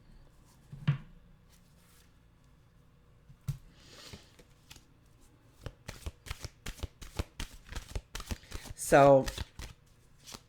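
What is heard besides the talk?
shuffling a deck of mantra cards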